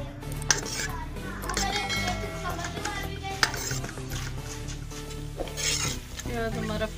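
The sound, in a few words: onions frying in hot oil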